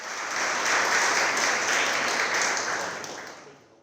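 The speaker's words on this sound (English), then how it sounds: "Can we please give Peter an amazing round of applause to welcome him on stage?" Audience applause at the APAC Summit kickoff welcomes a speaker onto the stage, a full wash of clapping that swells quickly, holds, then fades out near the end.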